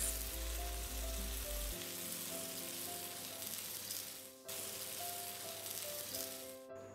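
Malai kebabs frying in a pan, giving a loud, continuous close sizzle that keeps crackling steadily for several seconds, with a low hum beneath and no talk.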